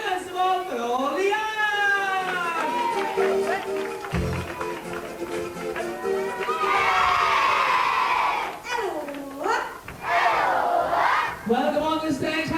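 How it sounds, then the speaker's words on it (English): Children in a holiday camp family room at Haven's Primrose Valley, 1996, cheer and shout loudly for people crossing the stage, with excited voices rising and falling in bursts over several seconds and a brief lull midway. "Give a big cheer first of all for all the"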